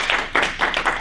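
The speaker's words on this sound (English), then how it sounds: "and I think another round of applause." Round of applause at a small workplace team report meeting in Leeds, a dense wash of clapping in several swelling bursts across one second, moderately loud and fairly close.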